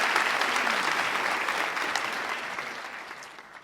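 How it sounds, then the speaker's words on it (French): Audience applause at the opening ceremony of a national eloquence contest, a dense burst of clapping that starts full and gradually thins and fades. "On vous salue, on vous applaudit."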